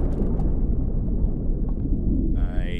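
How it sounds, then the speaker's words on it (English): In the video game Outer Wilds, a dam breaks with a deep, continuous rumbling roar like rushing water, loud and steady throughout, with a brighter swelling tone rising near the end. "I think that was the sound of the dam breaking."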